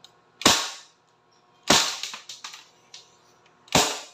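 A Crosman P10C Phantom CO2 air pistol fires off its remaining pellets: three sharp, loud cracks spread over about four seconds, each followed by a brief fainter echo, with no talking.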